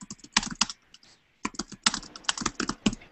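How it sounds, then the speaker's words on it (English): Rapid clicking of keys on a computer keyboard, in irregular bursts with a brief pause near the middle, close and fairly quiet. "And so pardon the typing."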